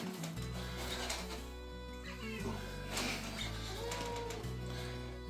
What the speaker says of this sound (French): la prochaine fois que vous devez nourrir votre chat qui a envie d'être sur le cadre